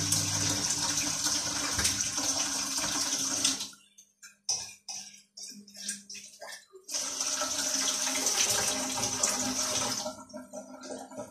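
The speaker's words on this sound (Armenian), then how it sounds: "Մի քիչ առաջ էր նկատեցի, որ ջուրը քչացել է, մեկ-մեկ թե սենց ելնում է" Water runs from a household tap at low pressure. The thin, steady stream drops away partway through into sputtering, broken spurts, then flows steadily again. No one speaks.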